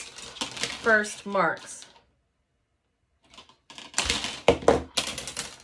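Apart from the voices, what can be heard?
wire cutter on needle nose pliers cutting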